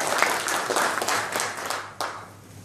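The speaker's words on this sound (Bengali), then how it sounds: "সবাই যদি একটু জোরে করতালি দিই মকিম ভাইয়ের জন্য।" An audience applauds for Mokim bhai, a dense round of clapping that swells early, holds steady and then thins toward the end, with a sharp clap near the close.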